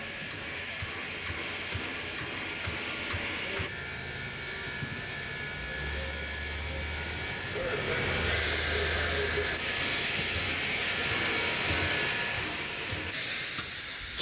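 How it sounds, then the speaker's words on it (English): Steady hiss and low rumble of Union Pacific Challenger 3985 steam locomotive slowly backing around a tight curve, with squealing metallic tones and a faint chuffing throb, continuous and moderately distant. "The engine is slowly backed around the tight curvature a little at a time."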